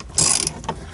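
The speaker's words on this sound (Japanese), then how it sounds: "ここに2つボルトがあるんで、それを外せばこれが取れるんだけど" A ratchet wrench loosening bolts on a body part of a 1978 Lincoln Mark V, a quick burst of close, loud ratcheting clicks followed by a couple of shorter metallic clicks.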